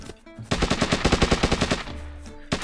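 Rapid automatic gunfire in the survival video game Hurtworld, a loud burst of about fifteen evenly spaced shots lasting over a second, followed by a lower rumble and one final shot.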